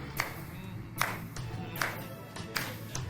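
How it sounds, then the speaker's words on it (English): A church congregation at a Sunday service claps in slow, evenly spaced beats, about one every 0.8 seconds. Each clap is soft and sharp, with quiet murmuring in between. "Let's clap this."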